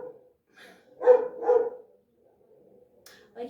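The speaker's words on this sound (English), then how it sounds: "If it's not my dog, it's my neighbor's dog." A dog barks twice in quick succession, close and fairly loud, with a few softer yips before and after against a quiet background.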